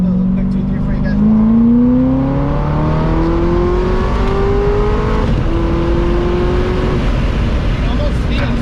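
A 2009 Corvette ZR1 engine revs up loudly with rising pitch, briefly drops at a quick 2-3 upshift, then climbs again, steady and close throughout.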